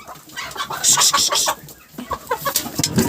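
Several hens cluck close by in quick, uneven bursts, with short gaps between calls.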